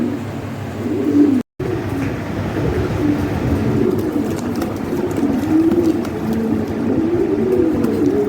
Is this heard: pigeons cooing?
yes